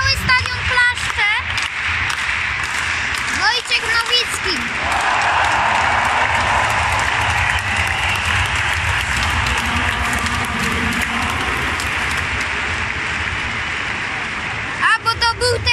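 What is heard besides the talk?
whole stadium crowd clapping at athletics championships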